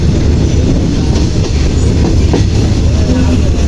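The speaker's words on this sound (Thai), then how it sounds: "กำลังนำขบวนเข้าสู่สถานีชุมทางต้องส่งนะครับ" Thai express train rolling toward a junction station, heard from inside the dining car: a steady loud rumble of wheels and carriage with faint rhythmic clatter, continuous throughout.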